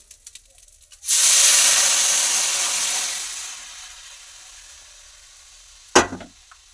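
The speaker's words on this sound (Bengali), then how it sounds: "এবার ওর মধ্যে যে টক দইটা ফেটিয়ে রেখেছি, ওটাকে ঢেলে দেবো তেলের মধ্যে।" Whisked sour yogurt hits hot oil in a pan and erupts into a loud, steady sizzle that fades gradually over a few seconds, ending with a sharp clatter.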